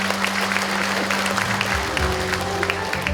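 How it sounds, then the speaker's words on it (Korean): An audience at a Korean county talk-concert event claps for an introduced official, dense steady applause over a low steady hum from the hall, with no speech on top. "큰 박수 부탁드리겠습니다"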